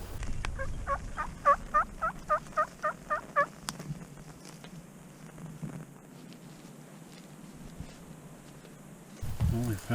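Wild turkeys gobble in a quick rhythmic string of calls from a field edge by a tree line, distant but clear, then go quiet over faint outdoor ambience.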